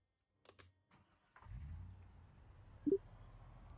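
A car engine starts in the video game Project Zomboid: a few faint clicks come first, then the engine catches and settles into a steady, low idle rumble.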